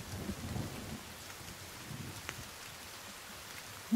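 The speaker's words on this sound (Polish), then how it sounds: "Boże, jeszcze burza." Rain and rumbling thunder from a video game storm play at a low level, with soft low rolls early on and a steady wash of rain throughout.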